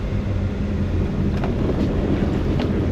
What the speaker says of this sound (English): now I am going to give it reverse thrust and all turn towards the dock